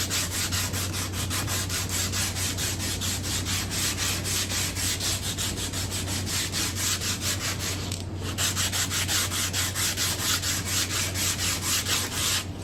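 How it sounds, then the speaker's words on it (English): A wooden acoustic guitar neck is sanded with 80 grit sandpaper in fast back-and-forth strokes, a loud, close rhythmic rasping that continues steadily with one short pause, over a low steady hum. "you can really smooth it out in a hurry with 80 grit"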